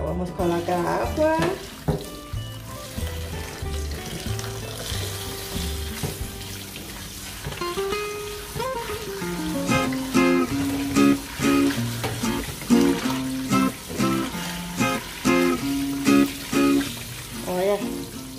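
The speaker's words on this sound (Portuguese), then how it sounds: "Vamos colocar água." Water is poured into a container to wash dried natural pork sausage casings, giving a steady splashing rush that runs under talking and some tonal background sound.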